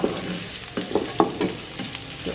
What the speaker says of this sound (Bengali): তেল দিলাম পাঁচের থেকে বেশি ফুটিয়ে নিয়ে